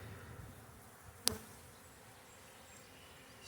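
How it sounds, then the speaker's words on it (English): Honey bees buzz around a beekeeper's head beside an open hive, a faint steady drone with one brief sharp click partway through. "I sure got a few of them buzzing up around my head here."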